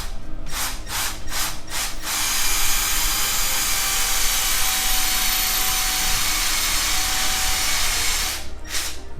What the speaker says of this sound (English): okay, so that's the hole drilled.